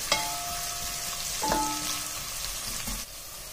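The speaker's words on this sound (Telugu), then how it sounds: "ఇవి కొంచెం బాగా కలర్ మారాలి అంతవరకు ఫ్రై చేసుకోవాలి." Sliced onions and ginger frying in hot ghee give off a steady, close sizzle with a crackle like rain, broken by a few short scrapes and clinks of a spoon against the pan.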